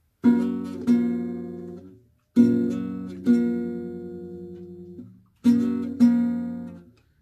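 Plucked guitar chords ring out in three pairs, each strum followed by a finger slide along the strings, then a short pause; close and clear, no voices.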